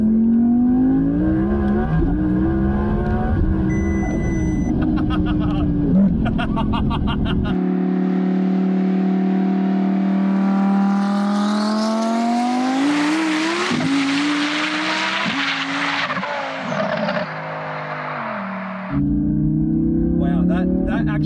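An Audi R8 accelerating hard on the street, its engine and exhaust roaring loudly and rising in pitch through several gears, with a person talking over the loud engine at the start and end.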